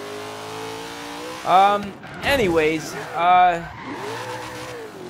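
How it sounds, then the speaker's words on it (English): An old, heavy Chevy Nova with its original motor in the racing game Forza Horizon 3, revving hard in several rising and falling bursts, close and loud, with someone talking briefly in between. "for such a heavy car and such an old car, keeping the original motor, this thing actually boogies quite nicely"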